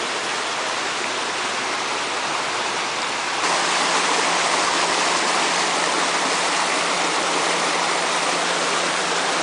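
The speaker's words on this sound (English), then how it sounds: "Will all that water go down those 4 culverts?" Loud, continuous rush of water pouring through four culverts at a flume pipe cofferdam in Seattle, a dense roaring wash that jumps to a heavier, fuller surge a few seconds in, with no talk.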